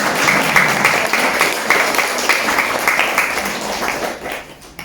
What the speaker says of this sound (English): So a big round of applause for all of you all.